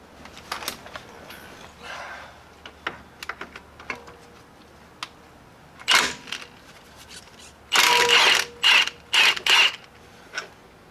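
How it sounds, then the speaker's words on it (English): A regular ratchet wrench working a stubborn nut on the front suspension of a Jeep XJ, scattered mechanical clicks and creaks followed by louder, dense bursts of rapid ratcheting close to the mic. "Give it a shot with just a regular ratchet and see if we could."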